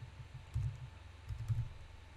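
Soft keystrokes on a computer keyboard, a few muffled low taps in two small clusters, faint and close with no voices.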